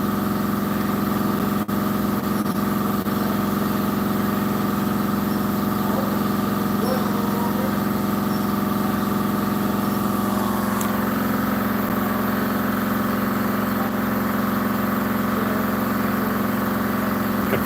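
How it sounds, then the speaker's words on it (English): Around a 1964 GMC at its first start, a compressor runs as a loud, steady, droning hum with an unchanging tone, with faint voices underneath. "Compressor's running."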